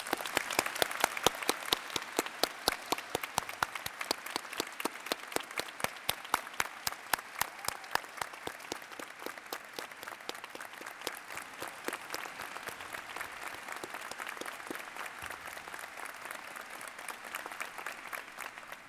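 A large audience at a high school graduation ceremony applauds retiring teachers, sustained crowd clapping with a strong rhythmic beat of synchronized claps running through it, steady for nearly twenty seconds with no talking.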